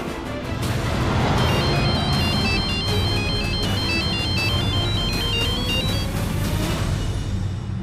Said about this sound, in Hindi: ध्रुव भैया का फोन।